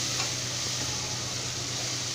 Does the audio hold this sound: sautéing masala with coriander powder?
yes